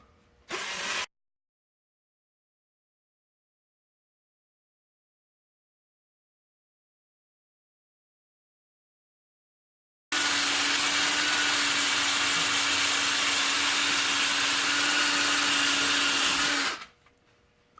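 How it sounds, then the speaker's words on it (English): A wire brush spinning on a drill while cleaning a differential cover: a short burst of loud grinding, a long silence, then about six seconds of steady, harsh, whirring scraping that stops abruptly. "This is just a wire brush on the end of my drill."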